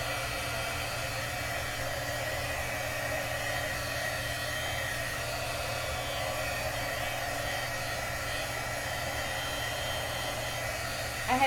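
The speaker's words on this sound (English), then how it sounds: "Take my heat gun and dry that" A heat gun blowing hot air to dry paste on a repurposed plant stand, a steady close whooshing hiss with an even motor hum that runs unbroken throughout.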